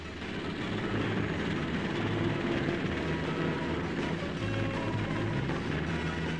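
A helicopter flying overhead during a trapeze stunt, its rotor and engine a steady, continuous roar at moderate loudness that persists throughout, with no speech.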